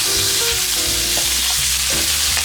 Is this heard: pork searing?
yes